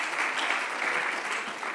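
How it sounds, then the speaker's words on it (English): Audience applause for Federico after a minister's speech at a sports federation event, faint and steady throughout a short stretch. "And an applause for Federico."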